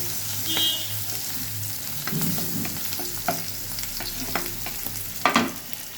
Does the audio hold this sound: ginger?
yes